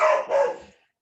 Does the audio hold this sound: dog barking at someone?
yes